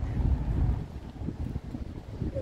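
Wind blowing outdoors by a bridge with swaying gymnast figures in Kazimierz, Kraków, a steady low rumbling gust noise buffeting the microphone throughout, loud and continuous with no voices.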